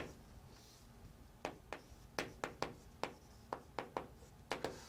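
Chalk or marker tapping and stroking on a classroom board during an accounting lecture, a series of short sharp strokes in uneven rhythm, moderately close over a quiet room.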